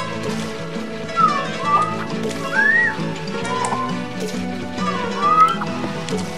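A person whistles short rising and falling phrases while playing Little Big Planet, three distinct whistled notes spaced over game music with a repeating stepped melody underneath.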